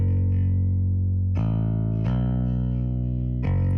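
A clean electric bass track from a metal mix, with the distortion off, plays sustained low notes that change pitch three times, each held smoothly with a bright pluck at the start.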